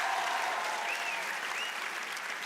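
Comedy-show audience members without children clap together, a thick, sustained round of applause that fills the room and fades slightly toward the end, with faint voices in the crowd.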